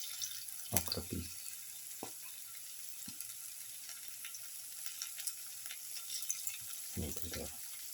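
Pieces of okra frying in heated oil give a steady, fine crackling sizzle throughout, broken by a few louder clanks and knocks near the start and the end.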